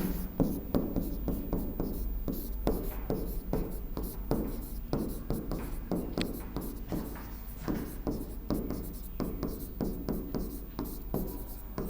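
Pen writing by hand on paper during a Hindi lesson, steady scratchy strokes and taps in an irregular rhythm, close and fairly soft, with no talk over it.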